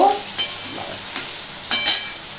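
Ingredients for mixed fried rice stir-fried in a pan at home, with a steady sizzle and a few sharp scraping stirs of a spatula, close up and with no talking.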